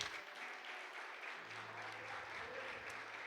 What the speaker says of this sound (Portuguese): Você pode adorar o Senhor com as palmas